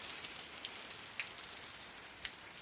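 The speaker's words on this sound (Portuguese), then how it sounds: "Tá chovendo muito, tava estiado até a tarde e começou a chover" Heavy rain falls steadily on a rural property on a Saturday afternoon, a dense, even hiss of drops with occasional louder splats close by, quiet overall and with no voices.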